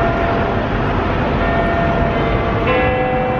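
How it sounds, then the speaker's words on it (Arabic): Big Ben's clock bell chimes over a busy London street, a loud sustained ringing tone with traffic noise beneath it and no talking. "ده الجرس بتاع الساعة."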